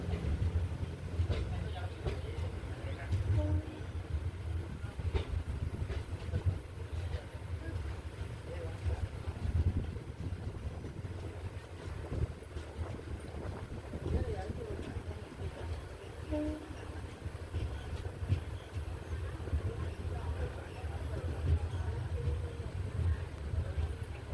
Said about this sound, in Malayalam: നമ്മുടെ മനോഹരമായ ശ്രീവല്ലിപുത്തൂർ റെയിൽവേ സ്റ്റേഷനിൽ നിന്ന് ട്രെയിൻ അങ്ങനെ എടുത്തിരിക്കുകയാണ്